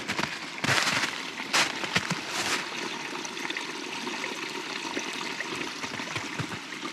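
Water flows and trickles steadily nearby, a continuous gurgling rush with a few brief louder splashes early on.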